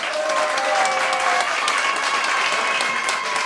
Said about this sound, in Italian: facciamo un grande applauso a tutti voi